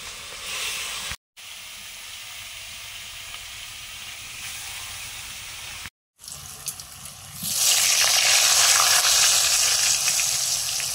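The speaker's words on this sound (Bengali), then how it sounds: "মাছগুলো ভেজে নিচ্ছি।" Rohu fish pieces fry in hot oil in a pan, a steady close sizzle with brief cuts, swelling into a louder, brighter hiss toward the end.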